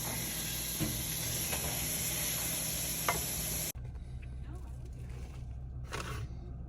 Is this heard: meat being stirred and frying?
yes